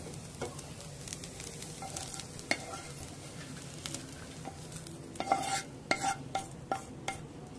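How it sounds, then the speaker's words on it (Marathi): Masala roasts in a pan for a spicy chicken curry, with a low, steady sizzle. A spoon scrapes and stirs it in irregular strokes that grow busier toward the end, quiet and close, with no talk. "आता मसाला भाजून झालाय, आता काढायचा आहे।"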